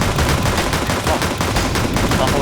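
Rapid automatic gunfire in the video game CS:GO, loud and close, with dense overlapping bursts of shots running continuously throughout.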